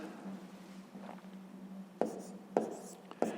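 Chalk or pen tapping and scratching as numbers are written by hand during a subtraction lesson, three sharp strokes in the second half over a steady low hum, with faint scratching before them.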